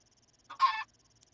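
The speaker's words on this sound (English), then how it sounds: "The chickens are supposed to go in here." A chicken on a video game farm gives a short, single cluck-like squawk over a faint repeating background tick, with a tiny click afterward.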